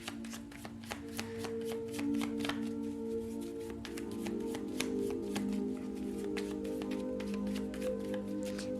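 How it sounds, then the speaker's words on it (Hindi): A deck of tarot cards being shuffled by hand at a reading, giving a steady run of soft riffling clicks and taps over about nine seconds, close and moderately quiet with no talk. "तो दोबारा से मैं शफल करूंगी।"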